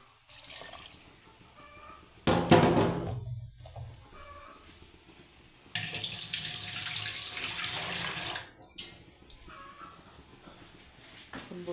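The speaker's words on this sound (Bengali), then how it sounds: "একটু পানি দিয়ে নিই।" Tap water runs in two bursts into meat being cooked on a stove, loud and close, with quieter kitchen clatter in between.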